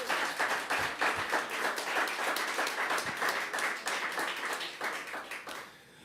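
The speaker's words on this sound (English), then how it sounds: "I think you need to applaud him some more." Sustained applause and clapping from an audience at a Pride Month event celebrating LGBTQ rights, dense and steady before thinning out toward the end, with no talk over it.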